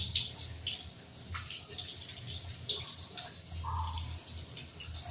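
Wild monsoon mushrooms are being washed in salt water, with continuous splashing and trickling water close by and occasional small drips.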